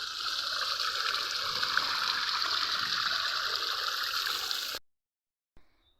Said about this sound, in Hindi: इस वाले एरिया से भी बहुत ज़्यादा पानी निकलता है।